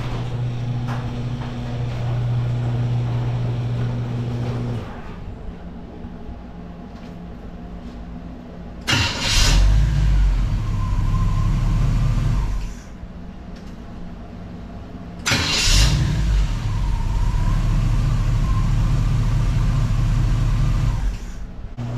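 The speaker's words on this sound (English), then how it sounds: "Let's see how this truck starts." A 1978 GMC pickup truck engine cranks and catches twice, each start followed by a steady low rumbling idle, loud and close, with a quieter lull between the starts.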